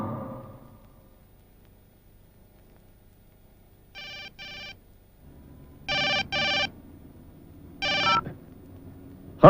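A telephone rings in clear double bursts, three pairs spaced about two seconds apart in an otherwise quiet room.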